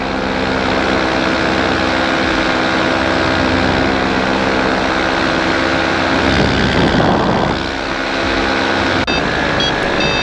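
A drone flies past outdoors, its engine and propeller noise a loud, steady buzzing drone that runs the whole time with a slight swell near the middle.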